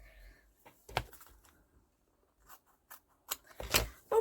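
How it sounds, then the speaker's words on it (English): A few short, crisp snips and rustles sound close up, separated by quiet pauses, as scissors cut through washi tape. "let's just get some scissors because I'm going to tear that"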